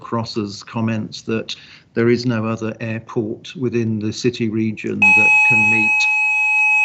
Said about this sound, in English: that's a fire alarm test at my end.